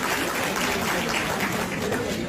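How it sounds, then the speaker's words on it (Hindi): A lecture hall audience claps steadily at a university talk, a dense even wash of applause with no pauses and no voices. "अच्छा, ये ताली कल्चर बंद।"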